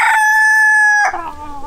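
An Ancona rooster gives a loud, close crow with a sustained, clear harmonic note that breaks into a rougher, descending ending.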